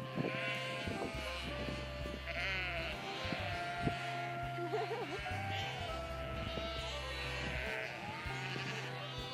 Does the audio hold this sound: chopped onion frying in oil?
no